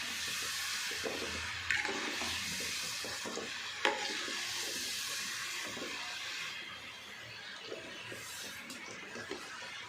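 Amla gooseberries fry in peanut oil with a soft, continuous sizzle and bubbling, broken by a few sharp crackles and light stirring scrapes, fairly quiet and close, with no talking.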